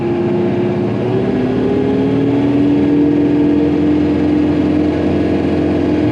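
Tractor engine running steadily with the PTO engaged at 540 RPM before mowing, a loud, even mechanical drone with a faint rising whine, continuous and close, with no talk.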